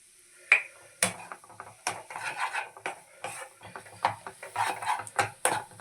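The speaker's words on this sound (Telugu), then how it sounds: "ఇది కూడా బాగా మిక్స్ చేసేసుకుందాం ఫ్రెండ్స్" A spoon stirring a mixed vegetable filling for bread bonda in a metal pan on the stove, with repeated scraping and clinking of metal on metal in an uneven rhythm and a faint sizzle underneath, close and clear, no talking.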